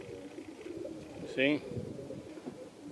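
A pigeon hen in a racing loft gives a short throaty coo midway, close and clear, set among quiet background bird sounds while someone speaks briefly.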